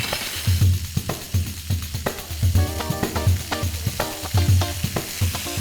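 Whole garlic cloves sizzling in a hot pan, a steady frying crackle with rhythmic low thumps and clinks from stirring, with no talking.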